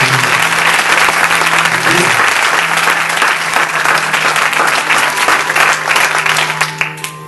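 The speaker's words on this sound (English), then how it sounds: "If you believe that, give the Almighty God a clap." Church congregation clapping loudly as one crowd, a dense and sustained roar of applause that fades slightly toward the end, with a low tone underneath and a faint voice briefly audible at the start.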